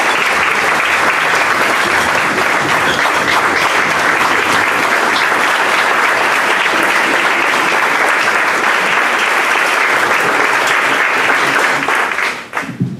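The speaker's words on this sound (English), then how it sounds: "I think that Denise and Luke deserve another round of applause." Sustained audience applause at a Rotary club meeting, many people clapping in a loud, continuous roar that holds steady for over ten seconds before tapering off near the end.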